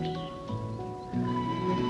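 Horses carrying riders up a mountain trail in Iran's Alborz Mountains, with close hoof clops and a short whinny over faint outdoor ambience, and nobody speaking.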